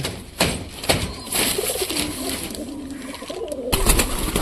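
Pigeons coo in low, throaty warbles close by, with a few sharp clicks or wing taps scattered through the clip.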